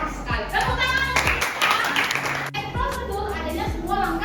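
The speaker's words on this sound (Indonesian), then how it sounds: "Tepuk tangan." Classroom applause from a class of young pupils, a burst of clapping in the middle under continuing talk and children's voices.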